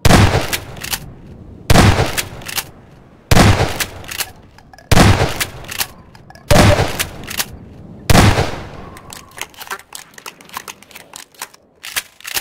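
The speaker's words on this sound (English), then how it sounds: "Here's what the shotgun sounds like in Half-Life 2." Shotgun blasts from the video game Half-Life 2, five loud sharp booms spaced about every one and a half seconds, each followed by a mechanical pump-action clatter, with a quieter run of rapid clicks and rattles at the end.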